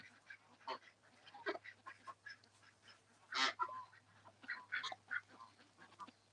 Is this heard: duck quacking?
yes